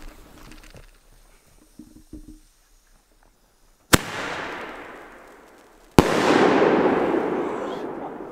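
Fireworks rockets set off outdoors, two sharp loud bangs a couple of seconds apart, each followed by a long crackling, sizzling shower of sparks, after a quieter stretch of faint shuffling and handling noises.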